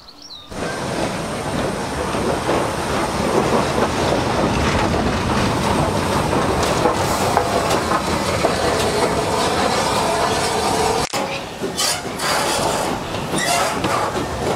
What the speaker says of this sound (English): a train ride from the town of Winchcombe to Broadway and return